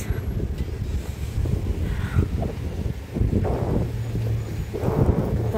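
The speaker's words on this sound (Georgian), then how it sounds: "საშინელი ქარია" Strong, cold wind gusts and roars across the microphone outdoors in freezing weather, a loud continuous rumbling buffet that swells and dips throughout.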